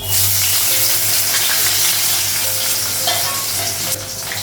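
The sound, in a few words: green chillies and onion frying in hot wok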